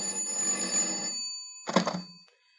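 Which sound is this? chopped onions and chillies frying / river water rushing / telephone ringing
telephone ringing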